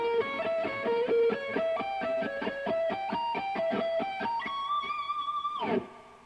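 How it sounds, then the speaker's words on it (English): An electric guitar plays a shred-style blues lick in a diminished pattern, a quick run of clean, evenly picked notes climbing step by step and ending on a sustained held note that is cut off sharply. "it's like a blues lick played diminished style"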